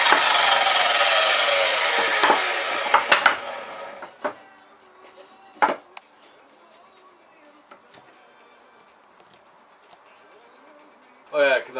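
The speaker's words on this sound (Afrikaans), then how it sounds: "Alright, nou gaan die ander kant afsny." Hand sawing of thin wooden strips cut at 45 degrees for a doll's cot, a dense rasping stroke for about three seconds, then a few isolated knocks and scrapes amid quiet.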